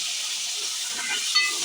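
Whole spices frying in hot oil for a chicken curry, a steady close sizzle with light crackle that runs unbroken, with no voices over it.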